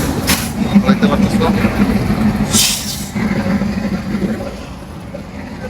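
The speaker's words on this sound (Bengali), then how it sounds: "ওই যে ট্রেনটা আসতেছে" Dhalachar Express passenger train rolling past on the way to Chapainawabganj, a steady loud rumble under continuous nearby talk, with a brief hiss burst partway through.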